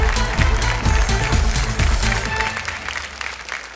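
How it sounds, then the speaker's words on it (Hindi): Studio audience on a Hindi late-night comedy family show breaking into loud, sustained clapping and cheering, dense at first and then gradually thinning out toward the end. "एक बार जोरदार तालियां हमारी चंद्रमुखी चौटाला के लिए"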